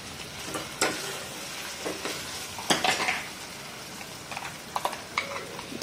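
Tomatoes sauté in a pan for a mushroom gravy, giving a soft continuous sizzle punctuated by repeated scraping and clinking strokes of a spoon stirring against the metal pan.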